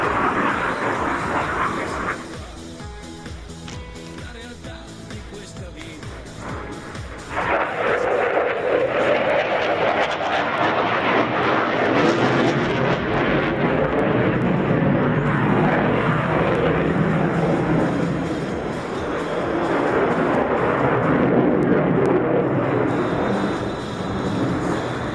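Eurofighter Typhoon of the Italian air force flying a tight display loop at an air show, a loud continuous jet roar that swells after a few seconds and holds steady, distant and broad.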